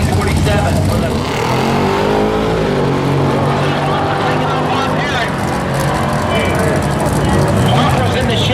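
A '57 Chevy race truck accelerating down a drag strip, its engine a loud, steady roar held at full power throughout, with a race announcer talking over it.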